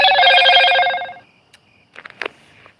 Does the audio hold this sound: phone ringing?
yes